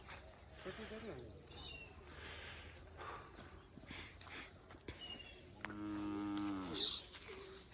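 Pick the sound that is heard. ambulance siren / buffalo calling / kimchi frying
buffalo calling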